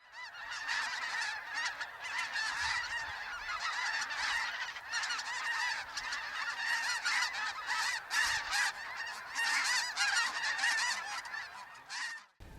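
A dense flock of snow geese flying in over a waterfowl hunt in Alberta, honking continuously in a loud overlapping chorus for the whole stretch, with no talk heard.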